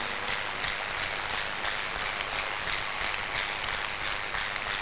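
A large crusade congregation gives a long, even round of clapping as an offering to Jesus, a dense continuous patter of many hands with no clear voice above it.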